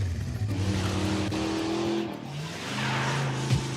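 A cartoon motorbike engine drones and revs steadily in a comedy ride scene from Motu Patlu, a continuous close engine tone shifting pitch up and down with a brief squeal near the end.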